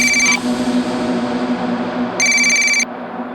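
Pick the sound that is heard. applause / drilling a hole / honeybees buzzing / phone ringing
phone ringing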